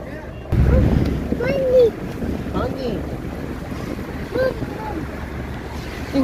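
Small tour boat riding the water off the Corniche in Qatar, with steady wind rumble and washing water noise throughout, a louder gust-like burst early on, and a voice talking over it.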